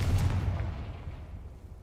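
A Confringo fire spell detonates in the Hogwarts Legacy video game, a loud low boom at the start that rumbles and fades over about two seconds, with no talking.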